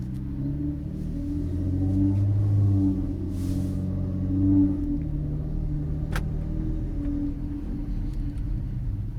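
A 2013 Infiniti G37 sedan fitted with test pipes and a 3-inch custom exhaust idles with a deep, steady, close rumble that swells briefly, as if on light throttle, with no talking.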